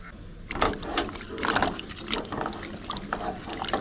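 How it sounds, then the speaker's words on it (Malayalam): Cut pieces of raw plantain being washed in a bowl of turmeric water, with splashing and trickling bursts that swell and fade in an irregular rhythm, close and moderately loud, with no talk. "നമുക്കൊരല്പം മഞ്ഞൾപ്പൊടി ആ വെള്ളത്തിലേക്ക് ഇട്ടിട്ട് ഒന്ന് കഴുകിയെടുക്കാം"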